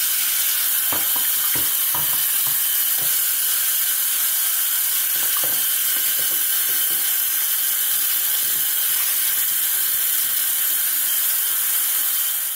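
An iPhone 6 in a Lifeproof case is held under water, with a continuous loud rushing, hissing water sound and a few scattered knocks and taps near the start.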